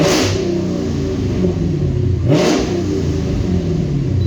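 A Dodge Hemi V8 in sport mode with its active exhaust valve open, revving hard: a loud, close, continuous engine roar that swells into a sharp rev midway, then settles back to a throaty rumble, with no talking.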